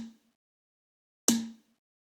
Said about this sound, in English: That is the tone layer of the snare.